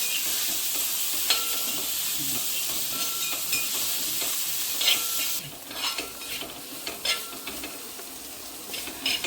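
Onions and tomatoes sauté for chicken biryani, a bright steady sizzle with a spoon scraping and stirring in the pan; the hiss drops somewhat midway as stirring continues with intermittent clatter.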